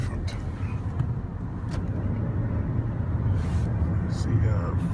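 A Ferrari on a Dubai street near the Emirates Mall produces a low, continuous engine and road rumble that stays fairly loud throughout, with people talking over it.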